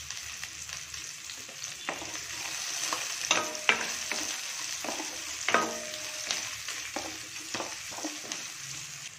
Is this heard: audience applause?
no